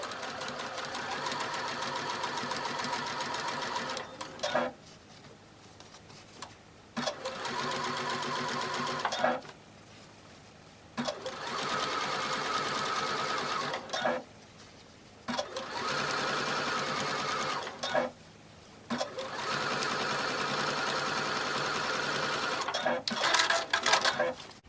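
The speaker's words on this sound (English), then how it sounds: "I'm going to sew my yoke on the bottom part of my top" A sewing machine runs in a series of bursts of rapid stitching, separated by short pauses, while under-stitching a dress and joining the yoke to the bottom of the top. It sounds close and steady, and there is no talk.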